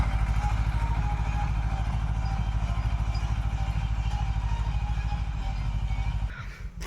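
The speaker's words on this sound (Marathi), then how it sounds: "अशा पद्धतीनं ट्रॅक्टर चालू आहे ज्वारी पेरायला" A tractor runs in a field while sowing jowar (sorghum), its engine giving a steady, close, throbbing drone that continues unbroken and then cuts off abruptly near the end.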